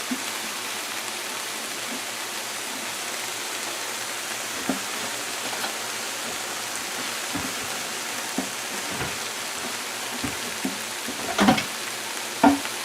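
Pepper shrimp frying in a pan give off a soft, steady sizzle at close range, with scattered faint pops and a couple of sharper crackles near the end; no one speaks.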